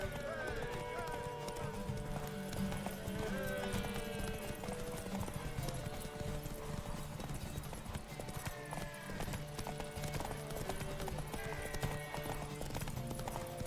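Horse hooves clip-clopping at a quick gallop in The Witcher 3, steady and rhythmic at mid distance under game music and a voice.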